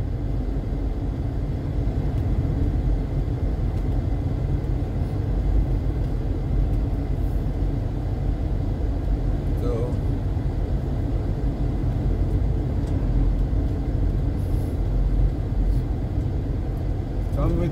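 Street traffic at the Sirikunda traffic lights on Kairaba Avenue in The Gambia forms a constant low rumble of passing cars and buses from inside a vehicle, with faint talking underneath.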